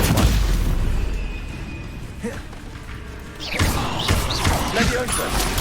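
Spellcasting in Hogwarts Legacy as a Stupefy spell lands amid combat, with booming impacts and crashing effects over several seconds and a voice speaking over the action.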